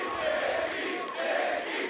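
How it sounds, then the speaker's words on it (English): At a Super Smash Bros. Melee tournament, a large crowd roars and cheers in a dense, sustained wash of many voices, loud and continuous with shouts rising within it. "Whole crowd going crazy."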